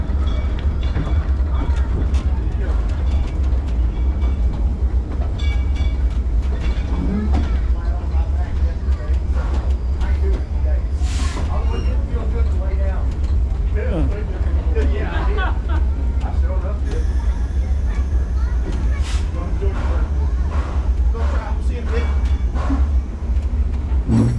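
A Six Flags Over Texas amusement park railroad train slowing down rumbles steadily along the tracks with a constant low roar and occasional clatter, while people talk faintly over the noise.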